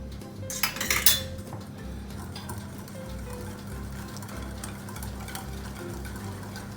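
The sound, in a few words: stirring oil and milk in a bowl for muffin batter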